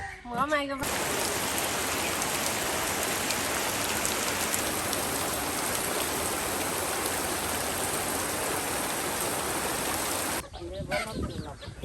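Heavy rain pours down on a rainy day, a dense, loud, unbroken hiss of falling water that cuts off abruptly near the end, leaving brief quieter sounds.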